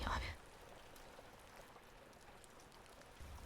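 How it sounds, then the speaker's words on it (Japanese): Raindrops pattering on a roof on an early-summer night: a very faint, soft, even hiss of steady rain, heard quietly and distantly, with a slightly louder rustle at the very start. "ぽつりぽつりと屋根を打つ音が静かなリズムで響いていました"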